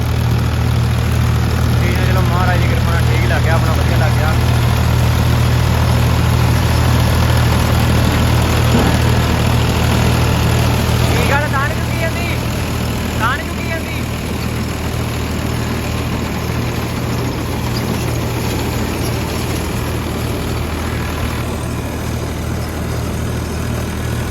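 A tractor engine runs steadily with a deep, loud drone throughout while working a field of dry crop stubble, as people talk over it now and then.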